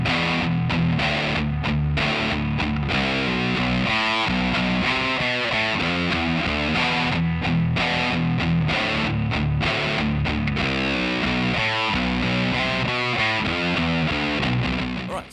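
Heavily distorted electric guitar plays a slowed-down bridge, with chugging power chords in a driving rhythm, loud and continuous with no voices.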